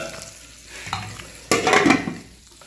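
Rohu fish fries in a pan with a soft, uneven sizzle, then a louder burst of spattering and scraping as the pieces are moved about.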